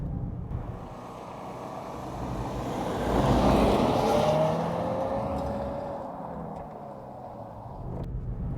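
2022 Subaru WRX with permanent all-wheel drive on a dirt section, kicking up dust: an engine and road rumble swells past at moderate volume around the middle, then fades, with wind noise throughout.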